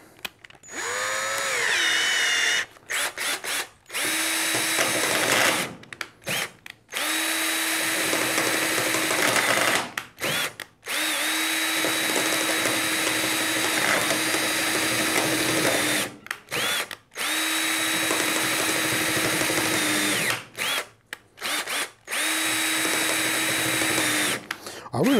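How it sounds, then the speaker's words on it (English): Power drill boring into the lock of a toy vending machine, repeated whining bursts of several seconds each with brief pauses between, loud and close, steady pitch while cutting. "Let's try something a little more sturdy."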